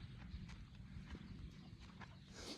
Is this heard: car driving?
no